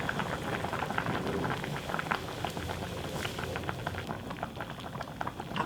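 Korean tofu stew with onion, green onion and anchovy broth bubbles in a pot, a dense continuous burble of popping bubbles heard up close with no talk.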